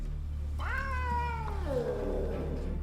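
A savannah cat lets out a single long, drawn-out yowling meow that slides down in pitch, close and clear over a steady low hum.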